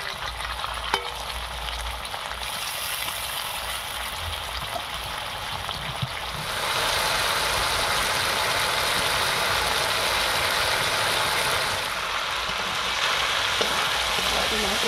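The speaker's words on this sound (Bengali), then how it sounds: "মশলার সঙ্গে আলু আর ছোলাটা ভালো করে কষানো হয়ে গেছে।" Boiled kabuli chickpeas and potatoes fry with spices in a pan, a continuous close sizzle that swells louder partway through, with occasional stirring scrapes and no talking.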